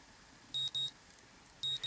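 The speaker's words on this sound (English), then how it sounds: "My morning alarm goes off and I flail about uselessly for a while" A morning alarm clock in the visual novel Katawa Shoujo goes off with short, shrill electronic beeps, two quick bursts, a pause, then another, clear and alone with no talk.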